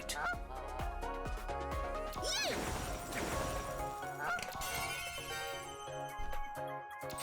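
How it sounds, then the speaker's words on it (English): In the racing game Sonic Racing CrossWorlds, a car horn gives a nasal, goose-like honk and sounds several times amid loud racing music and engine noise. "No, I think it's someone's horn."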